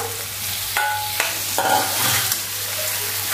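Pieces of drumstick and potato tumble into a hot pan of fried spices and are stirred, giving a continuous sizzle broken by clattering scrapes and knocks of the spoon.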